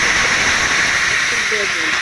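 Loud, steady hiss of onion and chopped winter vegetables frying in a hot pan for a Bengali hilsa fish curry, a continuous close sizzle with no pauses, no talk.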